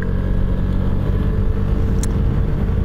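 A 2020 Vespa Primavera 150 scooter accelerates at full throttle onto a freeway, its engine droning loud and steady up close, mixed with road and wind rumble.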